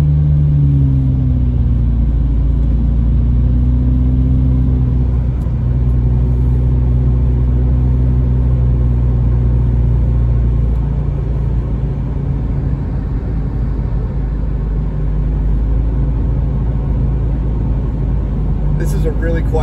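A car climbs California's Highway 38 up the mountain toward Big Bear, its engine a steady low rumble with road noise throughout, while someone talks over it the whole time.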